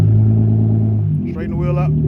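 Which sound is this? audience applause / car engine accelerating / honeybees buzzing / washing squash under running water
car engine accelerating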